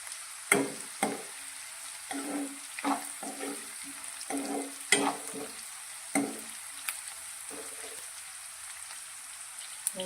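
Onion and green chilli pieces sautéing in a pan for an okra dish, with a steady sizzle broken by repeated scraping stirs of a spoon every second or so, close and clear, no voices.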